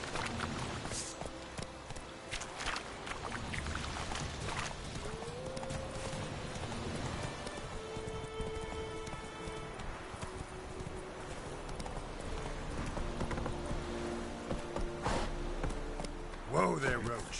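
The horse Roach walks in a PS4 video game, its hooves giving a steady, moderately close clip-clop over a busy bed of game sound, with a few sharper knocks near the end.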